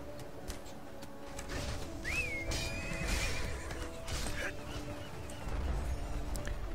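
A horse whinnies once in the video game ArcheAge, a clear rising-then-wavering neigh over soft hoof clip-clops and quiet game ambience, with faint talk around it.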